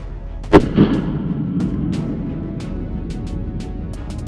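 A rifle fires a single loud, sharp shot at a 100-yard range while a new scope is sighted in, and its boom echoes and fades across open ground.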